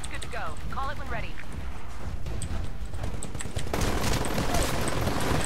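Weapons fire in a Titanfall Hardpoint multiplayer match, with rattling shots and bursts in a busy firefight that swells louder toward the end, mostly under a player talking.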